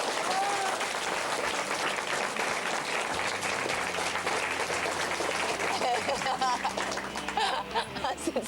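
An audience applauds a mangaka artist at a live stage show, a dense, sustained clapping that rolls on throughout. Laughter and chatter mix in, and the clapping thins into scattered claps near the end.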